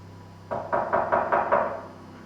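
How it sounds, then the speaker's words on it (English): About six steady, evenly spaced knocks on a door, loud and close, heard on their own with no talking. "Behold, I stand at the door and knock."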